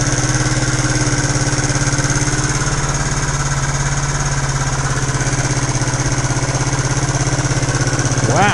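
A freshly repaired internal combustion engine, previously noisy with tappet clatter, idles steadily nearby with an even, rapid mechanical throb and a constant hum, ending with a rising whine.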